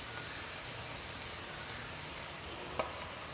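Okra and tomatoes fry in a pan with a quiet, steady sizzle and a few faint stirring clicks.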